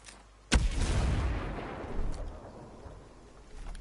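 A grenade goes off in a video game with a sharp, loud blast, followed by a rumbling roar that slowly fades, then a smaller second burst near the end; no talking.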